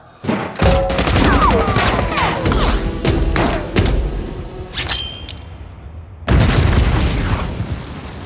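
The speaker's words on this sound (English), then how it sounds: "Hutch reaches Julian and kills him by blasting a bomb." A bomb blast in an action film about a former elite assassin, with deep booming explosions and rumbling bursts layered over crackling debris, loud and sustained, followed by a second heavy roar after a brief lull.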